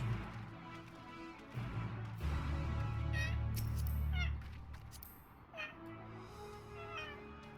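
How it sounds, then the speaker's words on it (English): Several short rising meows from a cat in the game Final Fantasy XIV: Endwalker, scattered over steady low background noise and some muffled voices. "Are you making cat noises again?"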